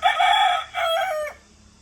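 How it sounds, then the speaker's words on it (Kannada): A rooster crows loudly and close by, a single full call broken into two strong bursts, then fading into quiet. "ಕೋಳಿ"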